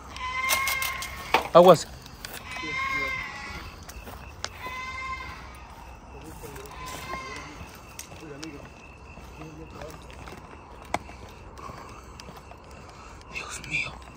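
Goats bleat in short wavering cries, a loud cluster near the start and more bleats scattered through the middle, over a quiet outdoor background with people whispering and talking softly.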